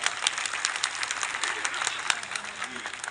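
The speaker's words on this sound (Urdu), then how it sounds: "آپ لوگ زوردار تالیوں سے استقبال" Audience applause at a mushaira at Maha Jati Sadan, greeting a poet as he comes forward: a steady wash of clapping from a large crowd, with a few sharper individual claps standing out, continuing throughout.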